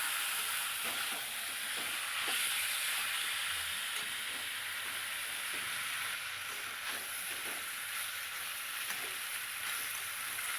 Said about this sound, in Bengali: কিমাটা দিয়ে আরেকটু নেড়ে নেবো